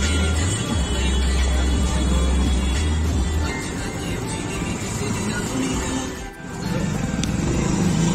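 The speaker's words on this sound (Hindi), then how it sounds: "ओ ट्रैफिक आ गया" Traffic in a busy street in East Delhi, with a constant, near rumble of engines and vehicles, a low horn-like drone early on and a brief dip later, and some voices mixed in.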